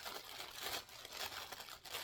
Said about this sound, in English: Plastic bag.